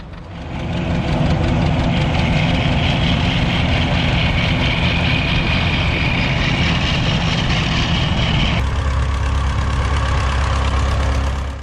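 A 1937 Massey Harris 25 tractor engine runs loud and close with a steady, knocking chug that shifts in tone near the end.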